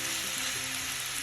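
Ivy gourd stir-frying in coconut oil in a hot kadai gives a steady, dense sizzle with no pauses, close and fairly loud, with faint stirring beneath and no voices.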